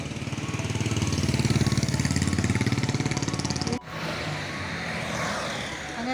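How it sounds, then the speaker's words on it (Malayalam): Vehicles speed along a busy road, a loud nearby engine droning with a pulsing buzz before an abrupt drop to a steadier, softer traffic rumble. "ചീറിപ്പാഞ്ഞ് നടക്കുന്ന വണ്ടി നല്ല ബിസിയിൽ ബിസിയിൽ ബിസിയിൽ പോണ റോഡാണ്"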